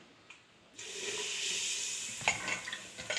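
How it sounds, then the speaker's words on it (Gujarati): Asafoetida hits hot oil as the tempering for undhiyu begins: after a quiet moment, a sudden loud sizzle starts and holds steady, with a few sharp stirring clicks near the end. "અહીંયા હિંગથી જ ખાલી વઘારું છું।"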